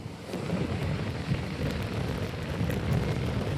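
Light rain falls outdoors near a temple, a steady soft hiss of drops at moderate distance with no voices.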